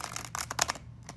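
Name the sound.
shuffling Halloween oracle cards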